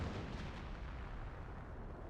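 Artillery fire in the Company of Heroes video game, heard as a faint, continuous low rumble of distant booms with no clear separate blasts.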